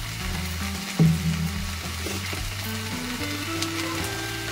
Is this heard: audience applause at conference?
no